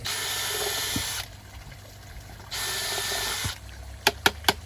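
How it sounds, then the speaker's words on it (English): A power drill whirs loudly in two long bursts drilling holes in an aquaponics grow bed, separated by a quieter pause, followed by three quick sharp clicks near the end. "to minimize that, I'll drill some more holes"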